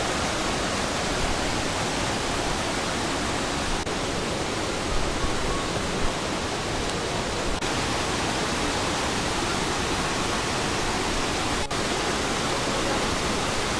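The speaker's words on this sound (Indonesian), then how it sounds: "Ini dia air terjunnya." Steady broadband rush of Pudeng waterfall in Aceh, a dense continuous roar of falling water filling the whole clip at even loudness, with no speech over it.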